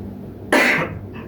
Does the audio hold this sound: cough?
yes